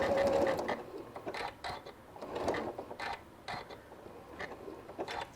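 A sewing machine stitches along the fabric edges of a St. Patrick's Day table runner, running in short bursts of rapid mechanical chatter with brief pauses at the turns, up close and fairly quiet.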